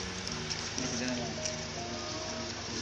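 Soft, steady rain patters in the background at low volume, with faint murmurs of voices mixed in.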